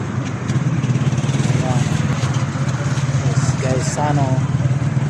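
A motorized tricycle in San Francisco, Agusan, rumbles along with a steady, loud engine drone throughout, while a voice talks over it and faint horn-like tones sound near the end.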